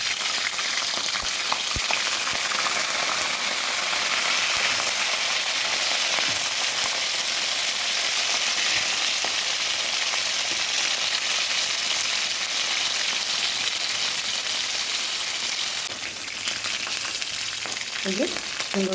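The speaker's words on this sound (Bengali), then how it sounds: "তেলটা বেশ গরম হয়ে গেছে, আর আমি কাঁকড়াগুলো একটা একটা করে ভেজে নেব।" Crabs frying in hot oil, a loud dense crackling sizzle that runs steadily and close throughout, easing slightly near the end.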